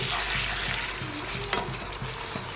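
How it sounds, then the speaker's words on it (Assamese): Chicken pieces with the skin on are stirred in a pan as they cook and release their juices, with a steady close sizzle and the scrape of a spoon turning the meat, including one sharp scrape near the middle. "এনেদৰে তলপৰ কৰি আকৌ লৰাই দি দিছোঁ।"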